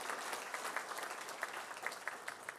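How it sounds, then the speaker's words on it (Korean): Church congregation applauding during a worship service to welcome visitors, a steady patter of clapping from many hands, faint and somewhat distant, with no talking over it. "여러분 모두 다 환영하는 의미로 박수 한번 하십시다."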